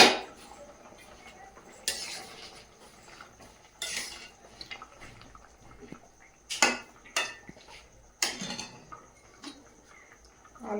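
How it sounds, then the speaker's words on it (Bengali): A lid comes off a pot of potato curry with a few sharp metallic clanks spaced apart, and near quiet stretches between the knocks. "ঢাকনাটা খুলে দেখে নেব।"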